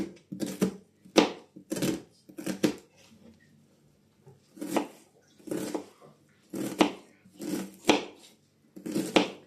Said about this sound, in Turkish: Şimdi soğanlarımı çok küçük olacak şekilde doğruyorum